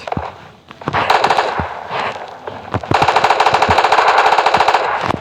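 Automatic gunfire from the mobile video game PUBG Mobile Lite rattles in loud, rapid bursts, with a short stutter of shots followed by a longer sustained volley of evenly spaced rounds.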